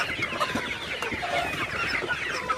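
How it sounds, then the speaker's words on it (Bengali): Sonali super hybrid chickens cluck softly and continuously while eating their afternoon feed, a close, busy chatter of overlapping calls with no voices. "আপনারা দেখতে পাচ্ছেন মুরগিগুলা খাবার খাইতেছে"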